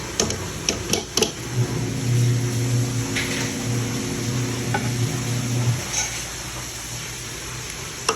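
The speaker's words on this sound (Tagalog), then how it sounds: "Ilalagay na rin natin ang cabbage." Shredded cabbage goes into a hot pan for pancit bihon and is stirred, giving a steady sizzle with scraping, clattering utensil strokes that fade after several seconds, leaving quieter frying.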